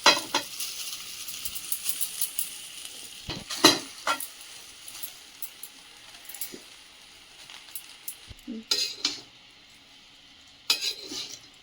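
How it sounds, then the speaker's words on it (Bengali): Rice with oregano and chili flakes is stirred in a hot pan, a soft continuous sizzle broken by irregular scrapes and metallic clinks of a utensil against the pan, with no talking. "দেখো ভাতটা ভালো করে আমি মিশিয়ে নিচ্ছি এটার সাথে"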